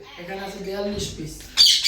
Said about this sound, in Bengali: এখানে যে বাজিগার পাখি রয়েছে